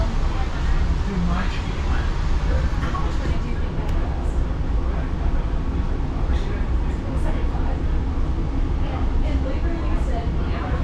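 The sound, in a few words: streetcar ride interior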